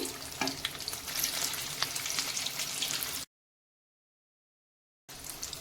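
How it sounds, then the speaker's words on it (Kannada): Vada for street-style vada pav frying in hot oil, a steady dense sizzle and crackle heard close up, broken by a stretch of silence before the frying resumes. "ಈಗ ಎಣ್ಣೆಯಲ್ಲಿ ಇದು ಫುಲ್ಲು ಫ್ರೈ ಆಗಲಿ"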